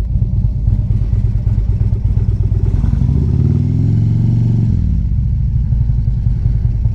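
A Honda F6B motorcycle engine rumbles loudly and steadily while riding at night, swelling in pitch and revving harder midway before settling back to a constant drone.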